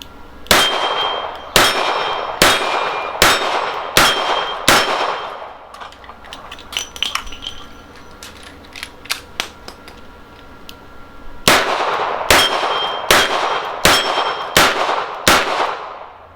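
Revolver shots from a Smith & Wesson Model 19 ring off steel target plates: two rapid volleys of six sharp, loud cracks, each followed by a bright metallic clang, separated by a quieter stretch of faint handling clicks.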